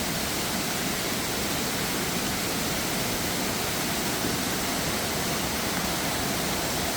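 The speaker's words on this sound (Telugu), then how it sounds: "వాటర్ ఫాల్ అంతా చల్ల నీళ్ళు, ఫుల్ కూల్ వాటర్." A waterfall of cold water pours in a dense, unbroken roar of rushing white noise, close and steady for the whole stretch, with nothing else audible.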